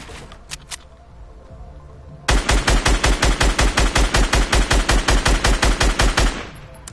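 Rapid automatic gunfire in Fortnite aimed at the battle bus, a fast even burst of about twenty loud close shots lasting four seconds, preceded by a few scattered quieter taps.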